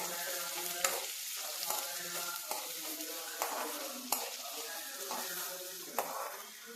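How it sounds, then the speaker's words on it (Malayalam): Green chillies sizzle and fry in a pan on a gas stove while being stirred for pepper chicken fry, a steady crackle broken by periodic scraping stirs, close and moderately quiet. "2 പച്ചമുളകും ഇടും. എന്നിട്ട് നന്നായി ഒന്ന് വഴറ്റി വരണം."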